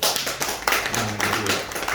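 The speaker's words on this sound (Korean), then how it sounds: "박수 한번 쳐" A seminary audience gives a short round of clapping, a quick, fairly close flurry of hand claps with uneven, overlapping rhythm lasting about two seconds.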